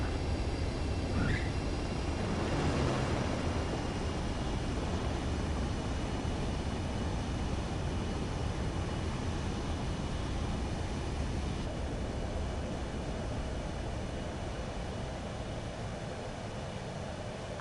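A jet landing in the combat flight game Ace Combat 7 gives a steady, loud engine roar that holds evenly from start to finish, with no voices over it.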